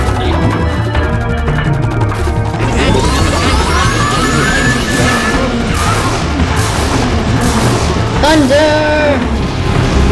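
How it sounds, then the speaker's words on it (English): Thunder crashes and booms in the Luigi's Mansion video game, loud rumbling bursts mixed with game music and sound effects while a voice talks over them. "Thunder! Lightning."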